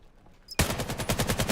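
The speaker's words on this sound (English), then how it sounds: "Free fire from both ends, and Good Steak comes on top with the AK-12" A video game firefight with an AK-12, starting with a sharp onset and then a fast, even rhythm of rifle shots in a rapid burst, loud and close, with no voices.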